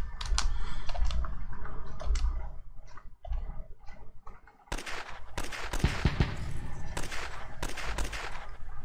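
Artillery bombarding a city in the strategy game Advanced Tactics Gold: sparse ticking and thuds at first, then a dense, loud run of rapid explosive cracks and booms in clustered bursts.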